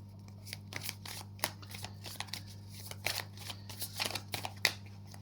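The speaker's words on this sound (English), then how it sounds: "I'll just shuffle my cards really quickly." Tarot cards are shuffled quickly by hand, giving a run of crisp flicks and riffles of uneven rhythm over a steady low hum, with no talk.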